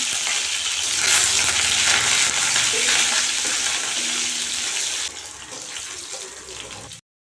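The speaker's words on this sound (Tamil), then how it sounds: "2 வெங்காயம், ஒரு கொத்து கருவேப்பிலை, ஒரு கொத்து கருவேப்பிலை இதெல்லாம் சேர்த்து நல்லா வதக்கிட்டு" Onions, shallots and curry leaves sauté in a pan for a village-style brinjal and drumstick kootu, giving a steady, fairly loud frying hiss for about seven seconds that eases slightly before ending abruptly.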